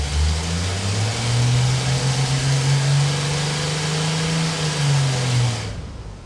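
Ford 300 inline six, run again after sitting for 20 years, roars under load on a dyno, holding a strong steady drone that rises slightly, then cuts off abruptly near the end.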